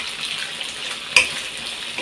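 Chicken pieces fry in a pan with a steady close hiss of sizzling, one brief clack of stirring partway through.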